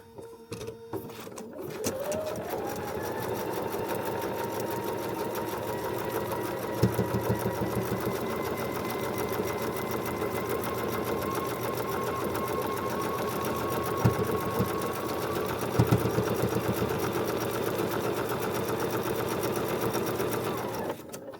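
A sewing machine runs steadily for about twenty seconds, stitching a foundation paper pieced feathered star quilt block, a close, even mechanical whir with a few brief bumps in the rhythm.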